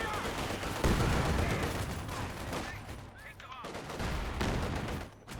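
Rapid bursts of gunfire and explosions fill a Company of Heroes 2 battle, loud and continuous, with shouted unit voice lines over the din.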